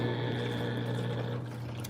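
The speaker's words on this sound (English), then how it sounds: "This is my dishwasher." A countertop dishwasher running with a steady pumping hum and watery churn, continuous and moderately close, unchanging throughout.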